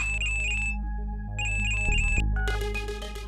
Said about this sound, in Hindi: मुझे लगता है तुम्हारे अंदर जाने से पहले हमें एक बार टिया का फोन ट्राई कर लेना चाहिए